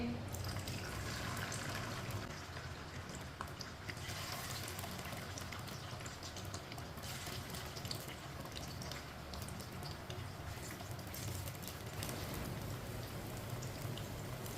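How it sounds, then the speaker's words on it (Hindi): Potato chips deep fry in hot oil over a high flame, making a continuous dense crackling hiss like steady rain, close and even throughout. "इसे 2 मिनट के लिए फ्राई होने देते हैं।"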